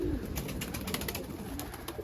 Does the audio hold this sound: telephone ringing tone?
no